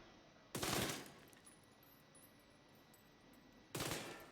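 Two separate loud bursts of submachine gun fire from the off weapon in the video game Destiny, each a sharp volley lasting about half a second, divided by a quiet stretch of low background hum.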